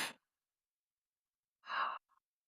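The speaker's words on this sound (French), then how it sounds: "Puis on va prendre à nouveau une inspiration par le nez. Une expire par la bouche." Two soft, breathy exhalations through the mouth, close and quiet, a short one at the start and a longer one after a silent pause, during a calm breathing exercise.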